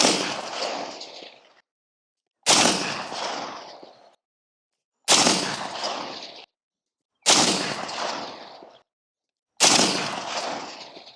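Five loud, close unsuppressed rifle shots from a 16-inch barrel firing 55 grain M193 ammunition, evenly spaced about two and a half seconds apart, each a sharp crack with a long decaying echo, heard alone without talk.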